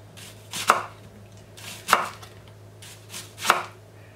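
A knife slices an onion into thin rounds, three distinct close chops spaced about a second apart, each ending in a sharp knock on the board.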